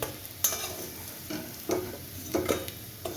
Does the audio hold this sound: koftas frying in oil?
yes